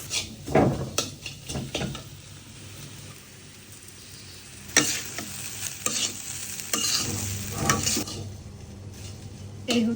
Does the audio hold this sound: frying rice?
yes